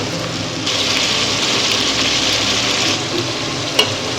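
Tomatoes hit browned onions and ginger-garlic paste for Rayalaseema-style chicken biryani, and a loud, rain-like hiss of frying surges up and holds steady, ending with a brief clatter.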